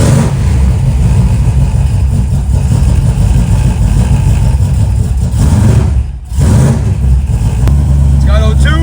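A rebuilt 1,100 horsepower small block Chrysler engine fires up and runs loudly, its heavy, choppy rumble close and continuous, with a brief dip before it carries on.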